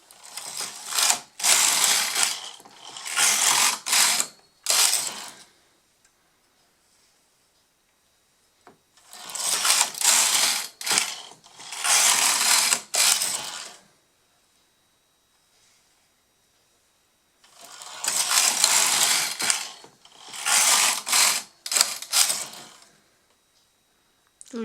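Erka 40 knitting machine carriage sliding across in three separate bursts of rows, each a loud rattling, whirring pass lasting a few seconds with quiet pauses in between, close and alone without talk.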